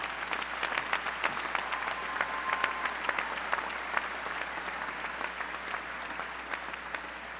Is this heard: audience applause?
yes